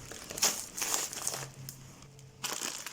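A plastic bag of rice crinkles and rustles as it is handled, giving close, irregular crackling bursts with brief quieter gaps between them.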